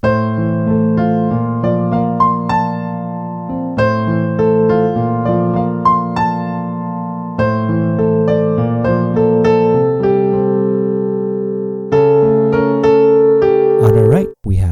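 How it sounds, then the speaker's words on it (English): A piano plays a 1980s-style pre-chorus, steady sustained chords under a stepwise melody, close and clear, ending abruptly. "This brings us to the pre-chorus, which sounds like this."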